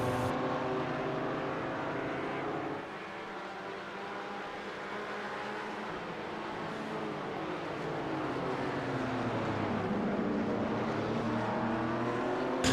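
Race cars including a Porsche lapping Sebring in the iRacing game, a continuous engine drone with shifting pitch as cars accelerate through a corner exit, steady and unbroken.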